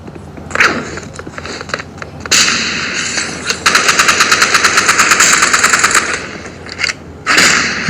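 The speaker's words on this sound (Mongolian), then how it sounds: "Би бүр буудаж үзүүлээ заяа." Gunfire rings out close and loud in rapid bursts, single cracks giving way to a fast automatic string of shots, then another short burst, with no voices.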